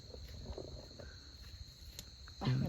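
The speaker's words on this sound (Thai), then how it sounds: "อันนี้นะครับเขาก็เรียกว่ากิ้งก่ง หรืออย่างก็จิ้งหรีดนะ" Crickets chirp steadily at night in the open, faint and continuous in the background, with footsteps or rustling brushing past and a louder low thud near the end.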